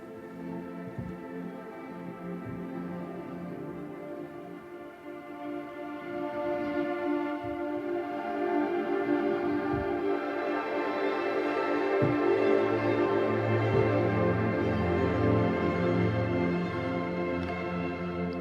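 The divergence patch from the Fracture Sounds Trails Kontakt library, a sustained layered pad with drifting harmonic tones that swells gradually louder and stays full and steady to the end.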